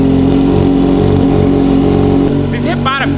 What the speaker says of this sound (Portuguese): o motor dela tá rodando até forte